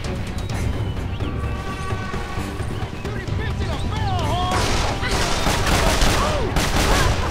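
Gunfire crackles continuously in the Western shooter game Call of Juarez: The Cartel, rapid overlapping shots and crashes over a noisy battle bed, with voices shouting through it.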